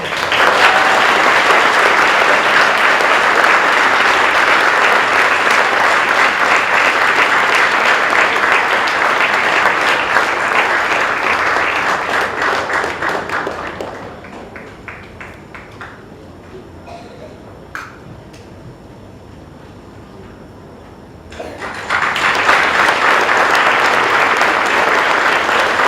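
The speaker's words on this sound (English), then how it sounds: "applause for her." Audience clapping at a school presentation day award, a loud, dense round of applause that dies down to quiet for several seconds before a second strong burst of clapping.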